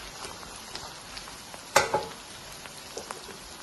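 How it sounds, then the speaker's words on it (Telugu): Crushed small onion cloves frying in a pan of oil for an okra yogurt curry give a soft, steady sizzle, with a sharper crackling burst near the middle and a few faint pops. "మొత్తంగా ఫ్రై అవ్వమంటాను ఇప్పుడు"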